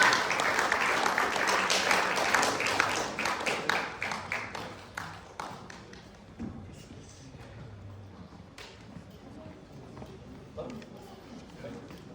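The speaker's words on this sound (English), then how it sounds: "round of applause" Audience applause at a monoacting festival, a dense burst of clapping that thins into scattered claps and fades over several seconds, with a few isolated claps trailing at the end.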